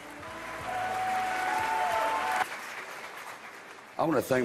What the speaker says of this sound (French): qui sous un tonnerre d'applaudissements vient recevoir le prix du meilleur second rôle dans Creed